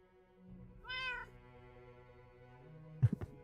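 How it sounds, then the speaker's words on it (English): A real cat meows once, a drawn-out rising-and-falling call, in the background behind Minecraft play, followed by a few soft thumps near the end. "There's meowing going on in the background."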